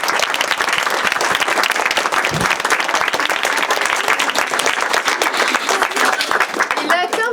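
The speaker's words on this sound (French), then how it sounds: "Applaudissons-les bien fort." Dense, sustained applause from an audience at a school science magazine launch, many hands clapping loudly and evenly throughout, with a voice emerging briefly at the very end.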